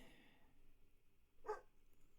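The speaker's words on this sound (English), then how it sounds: "Sorry about Enzo barking in the background there" A dog named Enzo gives a single short bark in the background, faint and distant, over a quiet room hum.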